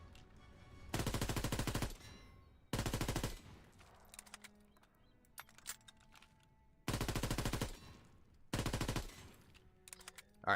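Rapid automatic gunfire in Apex Legends, four long sustained bursts separated by pauses filled with fainter scattered shots and game effects, loud and up close with no talking.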